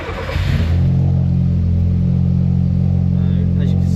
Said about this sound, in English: if we fire the car up now